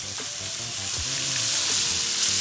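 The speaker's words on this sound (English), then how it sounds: "Then we're gonna continue cooking by adding all of the vegetables that we cut: the tomato, the serrano pepper, and the onion." Tiger shrimp frying in a pan with tomato, serrano pepper and onion, a loud, dense, steady sizzle heard close up with no talk.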